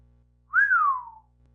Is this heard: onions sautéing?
no